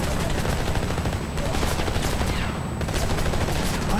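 Rapid automatic gunfire in the video game Homefront, dense and continuous bursts filling the clip at close range with no clear pauses.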